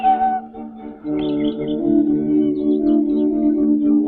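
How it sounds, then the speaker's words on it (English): A linnet singing outside a window, sweet warbling notes and whistled phrases carried over a sustained tonal hum, close and fairly loud for about four seconds. "It was really only a little linnet singing outside his window."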